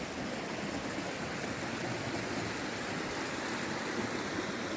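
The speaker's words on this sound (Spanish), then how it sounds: "Es una quebrada que tiene bastante agua y estamos caminando cerca" A stream carrying plenty of water runs beside a hiking trail toward a mountain peak, a steady, loud, broadband rushing and gurgling that holds unbroken throughout with no voices.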